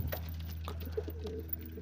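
Pigeons feeding on chickpeas at a home loft give faint, low coos now and then over a steady electrical hum. The birds sound distant and quiet.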